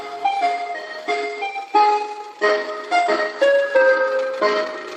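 An ice cream truck in the UK plays its jingle, a loud, clear melodic tune of repeated chiming notes with a steady bouncy rhythm, with no talk over it.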